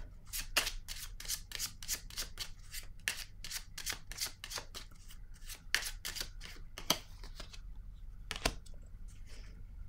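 Tarot cards are shuffled and drawn from the deck, producing a rapid series of crisp riffling snaps up close, sometimes grouped and sometimes spaced out, fairly quiet, with no talk.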